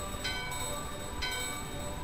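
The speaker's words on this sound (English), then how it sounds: "Ring the bell." Bell ringing in the ruined city of Burmecia in Final Fantasy IX, heard as two bright metallic strikes about a second apart over a steady game ambience.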